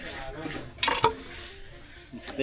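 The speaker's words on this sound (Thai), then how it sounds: "กระทะเหล็ก" A metal utensil stirring food in an iron wok, with two sharp close clanks against the pan amid quieter scraping and faint background voices.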